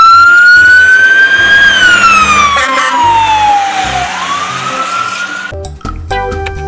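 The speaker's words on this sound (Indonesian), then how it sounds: "mobil pemadam kebakaran." A toy fire truck's electronic siren wails loudly up and down in a sweeping tone, then switches to a short beeping pattern near the end.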